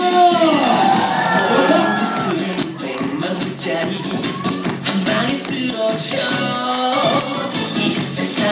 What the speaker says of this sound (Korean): 자, 이렇게 함성!